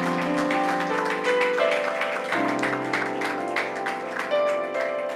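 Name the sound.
church congregation applause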